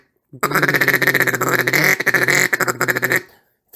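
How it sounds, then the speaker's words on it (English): A handheld duck call blown in a rapid, continuous series of raspy quacks for about three seconds, close and loud, with no talk over it. "Throw a couple quacks in there"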